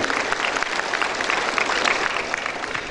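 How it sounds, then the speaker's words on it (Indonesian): An audience at a Politeknik Piksi Ganesha graduation ceremony claps for the parents. The applause is loud and sustained, with a dense patter from many hands filling the hall. "Kita berikan tepuk tangan buat orang tua semuanya"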